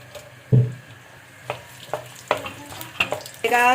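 Plain onions drop into about two cups of hot oil in a pan for Chinese rice, a sharp hit followed by light crackling and stirring clicks, close up, then a rising sizzle at the end.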